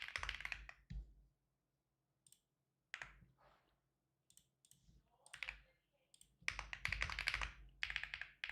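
Computer keyboard typing during a live futures trading session, with quick bursts of clicky keystrokes separated by pauses, the densest flurry near the end, fairly faint and close.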